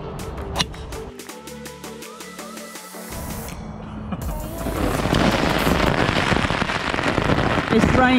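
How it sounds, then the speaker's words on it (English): Light rain falls on a golf course, a steady patter that grows denser and louder partway through, mixed with other handling noises early on. "It's raining just a little bit."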